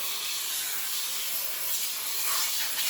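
A steam cleaner hisses steadily against the outer edges of plastic car trim, with a continuous broadband spray and no talk.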